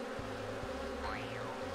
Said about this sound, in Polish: pszczoły będą moim tutaj przeciwnikiem